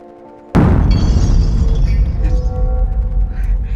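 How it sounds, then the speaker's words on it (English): A large bomb explodes above a cellar as a sound effect, a sudden loud boom after a quiet start, followed by a long rumbling, debris-filled decay that shakes the space. "All is silent until a large bomb explodes above, shaking the cellar."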